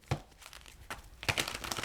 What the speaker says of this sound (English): cards shuffling how they shuffling